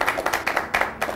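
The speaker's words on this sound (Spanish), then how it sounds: "sencillamente quiero para ellos un gran aplauso" Brief burst of rhythmic clapping from an audience saluting a married couple at a male potency product event, several quick claps close together in a short span.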